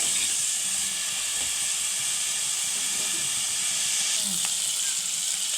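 Tomatoes, onions and green chilies sizzle steadily in a pan for a mutton gongura curry, a constant close hiss with a few faint clinks, no talking.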